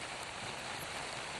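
Heavy rain falling during landslides and flooding around Idukki: a dense, constant hiss of downpour, loud and even throughout, with no voices.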